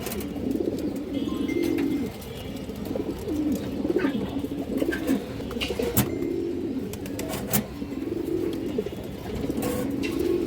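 A female Palla pigeon coos close by in soft, low, rolling phrases that repeat every second or two, with faint rustles and small clicks between them.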